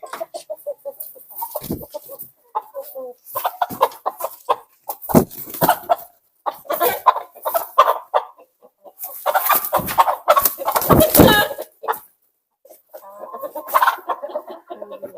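Hens and roosters in a backyard flock clucking close by, with busy, overlapping bursts of calls and short pauses between them.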